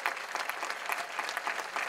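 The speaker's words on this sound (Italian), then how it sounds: "il primo applauso ve lo fate da soli" Audience applause at a stand-up comedy show in Piazza del Plebiscito, Naples, a brief burst of dense, steady clapping from a large outdoor crowd.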